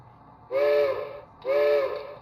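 Two blasts of a three-chime steam whistle from a Bachmann Spectrum HO-scale 2-8-0 Consolidation model locomotive, each a sustained chord about a second long, separated by a short pause.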